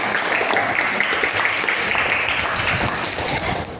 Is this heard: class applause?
yes